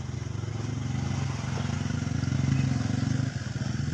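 A refrigerator compressor with rising oil and low compression runs after being switched on, producing a close, steady, rapid mechanical chugging hum with a faint clatter throughout.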